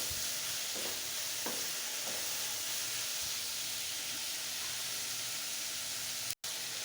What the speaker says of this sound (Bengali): এখন এটাকে ভেজে নিব।